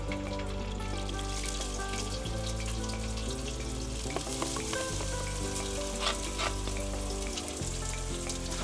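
Onions frying in hot oil with cinnamon, cloves and shahi jeera in a pan, a steady close sizzle alongside sustained tonal hum and scattered clinks, with no talking.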